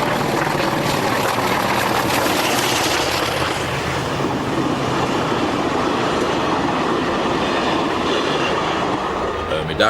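Train on a Portuguese railway pulling away from rest, a loud continuous rumble and roar of traction and wheels close by, with faint rhythmic clatter, steady throughout without any voices.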